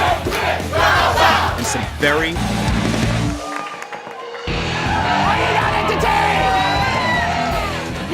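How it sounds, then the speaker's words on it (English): At a knife-fight cooking competition in Brooklyn, a disorderly crowd yells and whoops loudly in a dense, continuous roar. The noise drops out briefly midway and then surges back, with a voice speaking over it. "disorderly crowd"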